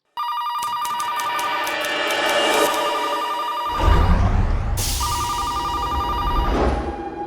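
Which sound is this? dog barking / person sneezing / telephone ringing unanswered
telephone ringing unanswered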